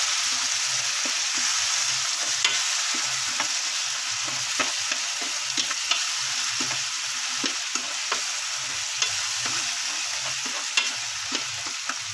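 Masala sizzles and sautés in a pan for an egg kurma gravy, a constant dense hiss with rhythmic spoon scrapes against the pan repeating throughout, no voices.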